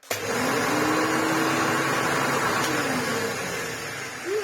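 A restored Maytag U5288 bagless vacuum cleaner, a rebadged Hoover Turbolite, switches on with a sharp start and runs with a loud, steady motor whine and airy rush, close by, its pitch wavering slightly.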